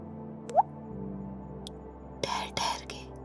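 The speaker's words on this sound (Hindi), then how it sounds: "माथे के ठीक बीचों बीच यहाँ पे पानी की बूंदे महसूस करो।" Soft, close water drops fall in an ASMR sleep-therapy setting, with one distinct drip standing out over a quiet hum and gentle whispering.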